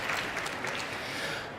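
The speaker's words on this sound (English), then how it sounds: "Maybe some applause for him." Moderate applause from a conference audience at a startup event's founder stage, a continuous wash of clapping heard from a slight distance.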